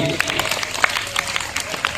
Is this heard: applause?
yes